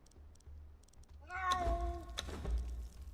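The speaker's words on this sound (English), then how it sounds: "Cat's being pretty loud." A cat lets out one loud, close meow with a rising then falling tone, after a few faint keyboard clicks.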